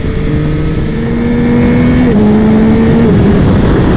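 A Yamaha XSR900GP motorcycle pulls hard nearby, its engine note climbing and then dropping sharply through quick-shifted gear changes, loud and continuous with no voices.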